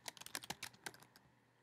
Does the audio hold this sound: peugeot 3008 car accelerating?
no